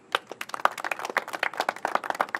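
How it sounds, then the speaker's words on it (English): A round of applause from an audience for a retiring police chief at a public safety announcement in Rensselaer County, steady dense clapping from a crowd. "Let's give her a round of applause."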